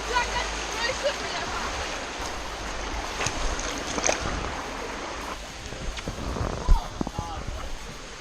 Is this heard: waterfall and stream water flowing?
yes